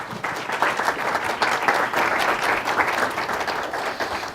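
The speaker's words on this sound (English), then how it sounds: "Let's give her a round of applause." Audience at a city council meeting breaking into a round of applause, dense sustained clapping from many people in a hall, loud and steady throughout without talk.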